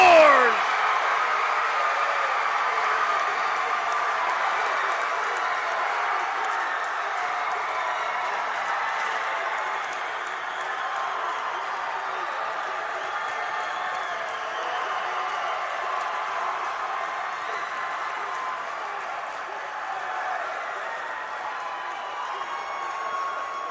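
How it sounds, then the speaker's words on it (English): Hockey crowd at a high school Class 1A championship game between Meadville and Bishop McCort roars and applauds after a goal, a dense sustained wash of cheering and clapping that starts loudest and stays broad and steady throughout. "You hear the roar of the crowd by Meadville"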